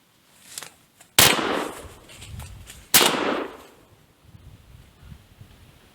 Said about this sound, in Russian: По первому вяхерю стрелял далековато, но я все-таки рискнул.